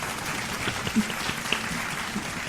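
A canned clapping effect played from a podcast soundboard gives a brief, fairly faint burst of crowd applause with a few distinct claps, with speech faintly audible underneath.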